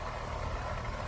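Residential air conditioning system running at a Katy repair job, a steady broadband mechanical hum and whoosh with low rumble, close and continuous, no speech.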